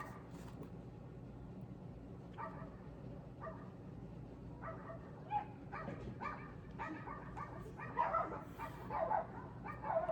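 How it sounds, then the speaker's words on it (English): Several dogs yip, whimper and bark in scattered, uneven bursts, fairly faint and somewhat distant, growing busier toward the end over a low background rumble. "Dogs."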